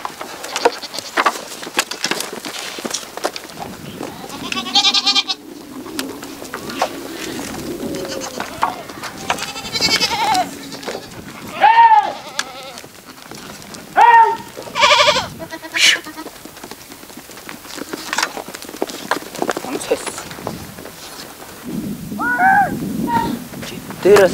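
A flock of sheep in Tuva bleats in scattered, repeated calls outdoors, some near and some farther off. Birds coo and insects buzz in the background.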